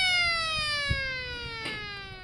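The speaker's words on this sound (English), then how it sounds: "the ranch team is able to move their cattle with just a feed truck and a siren" A ranch feed truck's siren calls stocker cattle on a Duval County ranch, one steady electronic wail slowly falling in pitch, loud and continuous outdoors with a couple of brief low thumps underneath.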